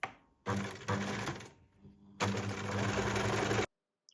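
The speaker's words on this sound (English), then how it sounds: "Now we're just sewing the sides together with 1 centimeter seam allowance again." A sewing machine runs the side seams of a top in two close, loud bursts of rapid whirring stitching separated by a short pause, ending abruptly.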